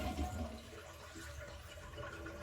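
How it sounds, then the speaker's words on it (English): A toilet flushes while being prepared for a bidet installation. Water rushes loudly and steadily for the whole stretch, close by, with no one talking. "We're going to flush the toilet."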